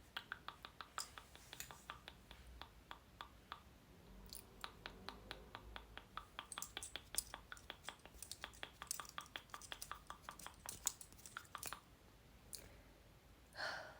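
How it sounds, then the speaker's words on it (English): Soft, crisp clicks come in quick close bursts, pausing and resuming, quiet and intimate against a near-silent background. "Let's do a few gentle clicking sounds."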